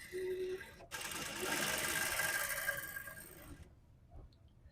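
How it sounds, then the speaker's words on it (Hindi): A sewing machine stitches along a marked strip of fabric in a steady, close whirring run of about two and a half seconds, following a brief start and falling quiet at the end. "यहाँ से आपने सिलाई शुरू करनी है इसकी।"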